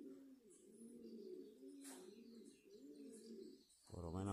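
A pigeon coos in soft, repeated low rolling phrases close by for several seconds, followed near the end by a brief burst of louder, harsher calling.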